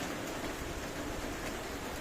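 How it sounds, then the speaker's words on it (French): Steady, dense rain hisses down in the Philippines, heard from indoors in a cabin-like room as an even wash of patter with no voices and no breaks. "Il fait que pleuvoir"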